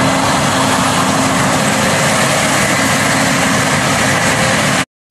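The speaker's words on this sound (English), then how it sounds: "Combine harvester." A combine harvester's engine runs at a steady, loud, close idle, a dense low rumble with constant mechanical roar that holds evenly and then cuts off abruptly at the end, no voices.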